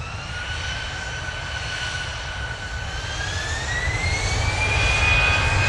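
A Jet2 jet airliner on short final, returning from Ibiza, roars steadily overhead with a rising whine, the engine noise growing louder toward the end.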